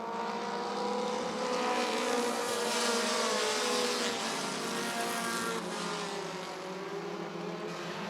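American Short Tracker race cars run heat race laps at Rockford Speedway, a continuous loud roar of several engines running single file that sustains throughout with slight rises and falls, no voices.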